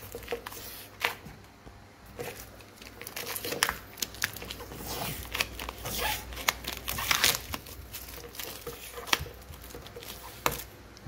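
Adhesive tape is peeled off a pair of Sony speakers, giving steady crackly, crinkling rips and sticky tearing noises close up and fairly quiet, with no talking.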